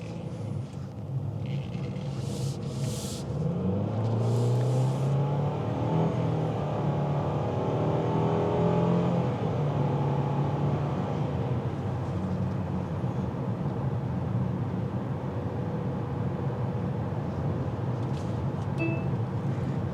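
A 2025 Mitsubishi Outlander SEL engine drones and strains under acceleration, a steady rumbling hum that rises in pitch, heard from inside the cabin with continuous road noise and no talk.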